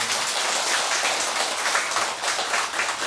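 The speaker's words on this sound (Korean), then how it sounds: "박수 한번 쳐드릴게요" A church congregation claps together during a Sunday worship service, a full, even burst of applause sustained throughout without any voices.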